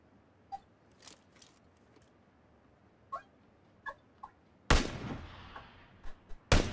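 Gunfire in PlayerUnknown's Battlegrounds: a few sharp, scattered shots cracking at a distance, then two loud, close blasts with a trailing rumble, no voices.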